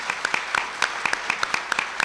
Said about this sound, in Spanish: Quiero entonces despedir con un fuerte aplauso a la licenciada